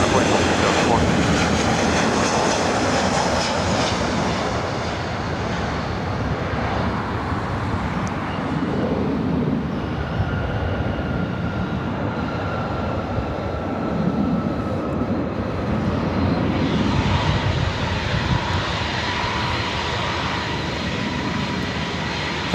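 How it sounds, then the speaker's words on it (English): A Southwest Airlines Boeing 737-700 lands on runway 24 right at LAX, a steady loud broadband jet engine roar holding throughout with a rising whine near the end, no talk heard. "That was Southwest Airlines coming in from the SFL flights 858 on the 737-700."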